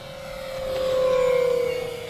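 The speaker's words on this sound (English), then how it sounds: "Let's do more throttle down the runway, full throttle pass right now." Model Twin Otter twin-propeller airplane at full throttle makes a steady droning whine that swells as it passes close by and climbs, then fades slightly.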